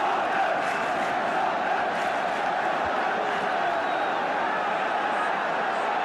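A Tottenham football crowd roars after a Spurs goal against Manchester United, a dense, sustained wall of cheering filling the stadium, loud and steady throughout.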